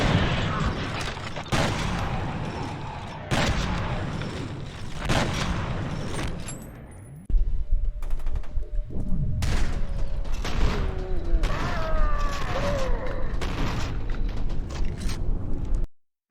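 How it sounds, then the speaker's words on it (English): Shotgun blasts from the games F.E.A.R. and F.E.A.R. 2, played back to back as a string of loud, booming single shots separated by short gaps, with no talking. "let me show you a clip comparing Fear 1 shotgun to Fear 2 shotgun"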